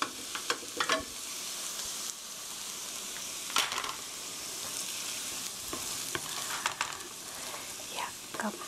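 Spicy seasoned chicken is stirred in a hot pan with the heat just turned off, a steady sizzle carrying scattered scraping and clattering strokes of the spatula, close and fairly loud with no talk.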